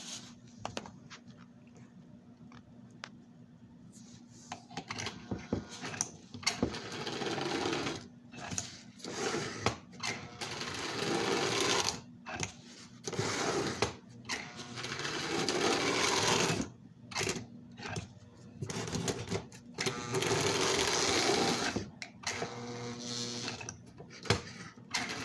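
A Marx Marline #494 Canadian Pacific toy train running on its track, a close mechanical whirr that starts and stops in repeated bursts, broken by short pauses.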